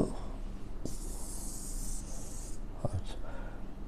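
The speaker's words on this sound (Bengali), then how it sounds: "তাহলে এখানে লিখব" Chalk or marker scratching across a board while a math solution is written out, a sustained high scraping stroke of about two seconds followed by a few short ticks and taps, alone without talk.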